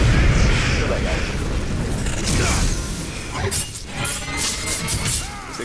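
A loud explosion in a video game, with a heavy crash and rumble that fades into clattering debris and mechanical creaks; nearby game sounds continue underneath.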